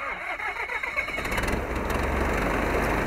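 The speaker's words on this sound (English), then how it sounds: "we're the first to let you see and hear the Diesel 182 in action" SMA diesel engine in a Cessna 182 aircraft cranking and catching, chuffing starter pulses building quickly into a loud, steady close-up running roar.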